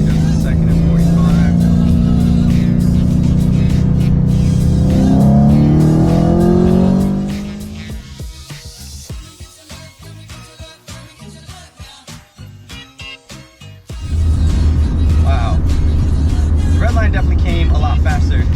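A 2016 Chevrolet Camaro SS V8 revs hard in second gear, engine pitch climbing loudly before easing off into a quieter, choppy lull, then surging back to a loud, steady roar near the end.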